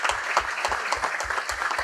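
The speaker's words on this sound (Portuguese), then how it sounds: "Uma salva de palmas a Luciana Temer, grande empreendedora nessa área." Audience applause honoring Luciana Temer at a televised talk-show event, a steady dense clapping that fills the whole short stretch without voices.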